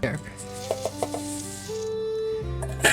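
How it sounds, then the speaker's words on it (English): Oats being stirred in a big pot for old-school granola: soft scraping and clinks of a utensil with a light sizzle, fairly close, with no one talking. "And then we're going to start stirring."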